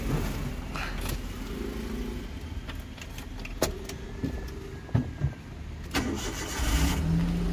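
A used 2017 Suzuki Alto at a second-hand car dealer in Tinsukia starts up: clicks and a key turn, a brief cranking burst, then the small engine settles into a steady idle, close and fairly loud.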